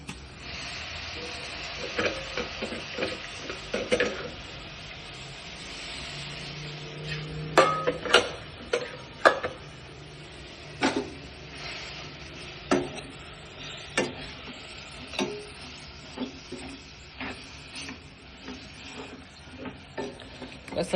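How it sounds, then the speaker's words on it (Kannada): Dill leaves being added to masala oil in a pan for a hesaru kalu and sabbasagi palya, soft sizzling under repeated sharp scraping and tapping of a spatula stirring against the pan, close and irregular. "ಇವಾಗ ಸಬ್ಬಸ್ಗಿನ ಹಾಕೋಣ."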